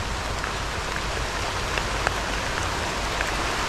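Steady rain falling on a surface, a dense continuous patter with scattered louder drops, no voices.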